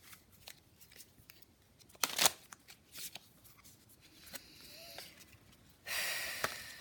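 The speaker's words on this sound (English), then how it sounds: "And then we have the Thoth deck. So let's shuffle that up." A Thoth tarot deck being shuffled by hand, with soft riffling and papery card slaps in bursts and a louder flurry near the end, recorded close and quiet with some breathing.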